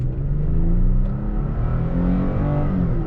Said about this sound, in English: traction control off, ETC on, 0 to 60 time in the Toyota Tacoma SR5